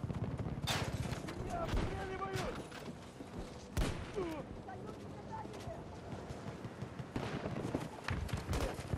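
Gunfire in the video game Battlefield 2042, a battle scene with scattered sharp shots and bursts, distant and mid-range, mixed with radio chatter and shouting voices across the clip.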